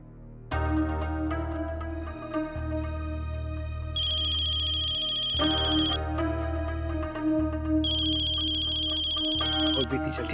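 A melodic phone ringtone plays continuously and loudly, with a repeating tune, bright chiming accents and a pulsing bass line.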